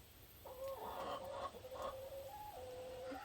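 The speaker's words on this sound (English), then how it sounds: "That's chicken." Backyard chickens, including a large Australorp hen, cluck in a run of repeated calls that rise and fall at close range, steady for several seconds with no talking.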